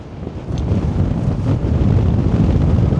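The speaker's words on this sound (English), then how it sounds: "it's quite windy. Nice, but windy." Steady wind on the Scottish mountain Meall nan Tarmachan rushes and buffets against the microphone, a continuous low roar that swells slightly after the first half second, with no voices.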